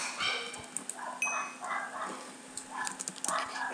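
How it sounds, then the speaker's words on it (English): A dog barks a few times in the background, brief sharp yaps scattered over a steady low hum and some faint room noise. "my dog is barking too"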